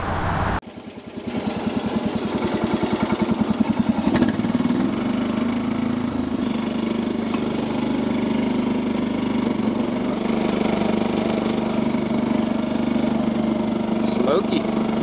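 A Yazoo lawn mower converted for off-road use runs throughout a ride, its engine droning loud and close with a steady, slightly knocking hum after an abrupt start.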